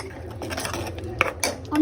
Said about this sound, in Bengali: এবারে মশলাগুলো একসাথে খুব ভালো করে কষাতে হবে